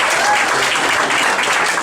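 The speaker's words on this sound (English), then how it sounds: "you can give her a round of applause." Comedy club crowd applauding, a dense, loud and continuous burst of clapping close by with no breaks.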